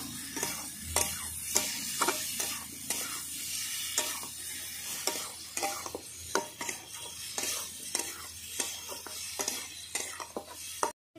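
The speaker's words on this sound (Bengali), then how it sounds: "ভালো করে আমি এক মিনিট কষিয়ে নেব" Potatoes with turmeric powder and salt are sautéed in a pan: a soft, steady sizzle runs throughout while a spoon scrapes and stirs in repeated sharp strokes, near and clear, with no voices.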